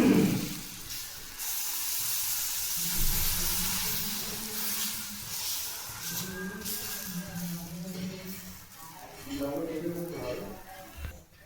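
Gram flour thalipeeth flatbread sizzles on a hot pan, a steady hiss and spitting fry running throughout while someone talks over it.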